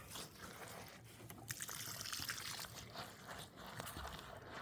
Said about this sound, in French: J'arrose un petit peu aussi à mi-chemin là.